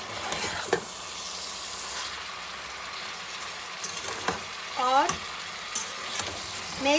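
Chopped fried eggs stir-fried in a pan for chicken fried rice, making a steady sizzle with a few spatula scrapes and knocks. A brief spoken word is heard.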